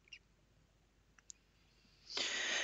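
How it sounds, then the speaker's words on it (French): A computer mouse clicking on a web link: a couple of faint, brief clicks in a quiet room, followed by a sudden burst of steady hiss. "ensuite je clique sur le lien du centre"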